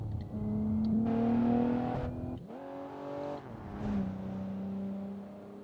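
An inline-six truck engine in the BeamNG driving game revs up and down in several swelling pulls, its whining drone climbing and dropping between gear-like shifts, steady and close with no talk.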